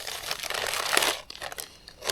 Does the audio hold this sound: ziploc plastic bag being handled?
yes